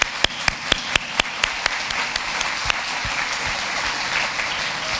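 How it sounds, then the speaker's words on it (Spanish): Applause for the staff at an education congress, a few sharp, separate claps ringing out at first and then blending into a steady wash of clapping from the audience. "merecen un aplauso a todas las personas que están atrás"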